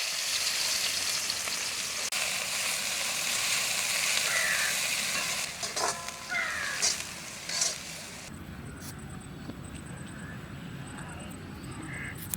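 Fenugreek seeds and onion fry in hot oil in a village kitchen as the base for a fish curry, giving a steady close sizzle, with a change in texture partway through as ingredients go in.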